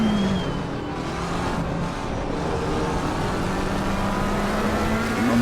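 A race car at Silverstone in Assetto Corsa Competizione accelerating hard. The engine note climbs steadily in a loud, continuous whine with no talk.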